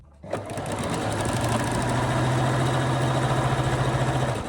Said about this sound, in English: this is the moment where you can actually sew directly with your overlocker